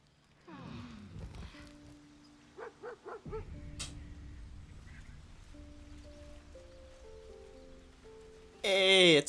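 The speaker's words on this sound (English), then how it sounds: "that's the dog you like" The dog Scratch in the video game Baldur's Gate 3, a few short barks followed by soft whimpers and a louder yelp at the end, over quiet game ambience with some talk.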